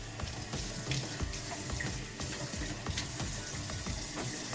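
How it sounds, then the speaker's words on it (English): A vintage 1940s Gillette safety razor being rinsed under a running tap, a steady close rush and splatter of water hitting metal and the sink, continuous and fairly loud throughout. "I'm gonna rinse this off real quick."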